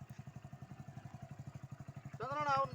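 A motorcycle engine chugs in a steady, even rhythm of close, low thumps on a rough, poorly surfaced village road, and a voice starts speaking over it near the end.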